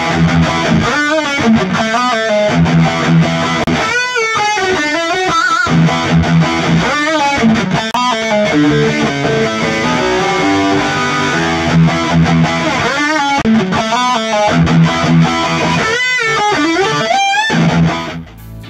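A distorted electric guitar plays through a mic'd cabinet and then through a captured impulse response from a neutral power amp, a loud, continuous gritty tone with rhythmic chord stabs and riffs.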